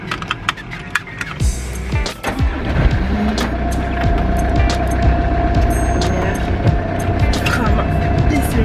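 An old camper van pulls away and drives along the road. Its engine drones and rises through the gears with road rumble and cabin rattles, and faint voices are heard inside the cab.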